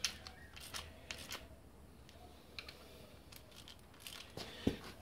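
Short snips and scattered clicks of material being cut off by hand while working on an MGB B-series engine during resealing, faint and close, with quiet pauses between the cuts.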